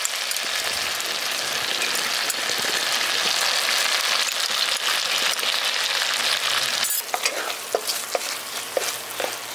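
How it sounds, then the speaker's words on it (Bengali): Onion and capsicum fry in a pan with soy, green chilli and tomato sauces, giving a loud, continuous sizzle while a spoon stirs and scrapes, with a few sharp clicks near the end. "সসটা দিয়ে এখানে ভালো করে মিশিয়ে দিয়েছি।"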